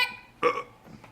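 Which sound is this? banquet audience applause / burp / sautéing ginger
burp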